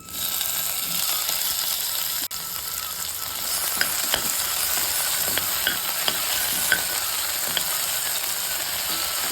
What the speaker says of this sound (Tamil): இப்போது கட் பண்ணி வச்சுருக்கிற இந்த தக்காளியை இதில் சேர்த்து வறுத்துக்கணும்